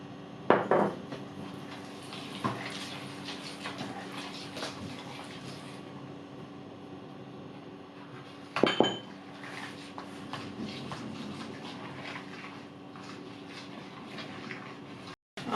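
A fork stirs pancerotti dough in a bowl, with steady scraping and clinking against the bowl and a few louder knocks near the start and in the middle, close and without talk.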